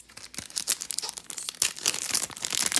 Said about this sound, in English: These packs open so much easier when you just strip them down the center.